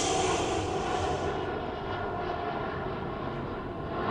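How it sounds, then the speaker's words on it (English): An airliner roars overhead during an outdoor yoga session, a loud steady engine rumble that slowly fades as it passes. "I don't know if you can hear the planes in the background."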